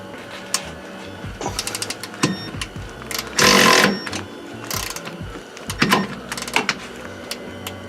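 A Milwaukee power ratchet zips differential bolts out of a Nissan S13 240SX in short whirring ratcheting bursts between clanks and handling noises, with one longer, louder burst in the middle, close and alone.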